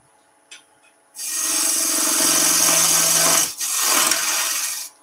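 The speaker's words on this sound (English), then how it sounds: "just using the bowl gouge" A bowl gouge cuts wood on a lathe, a loud, close, continuous rasping hiss lasting a few seconds, pausing briefly, then resuming before stopping.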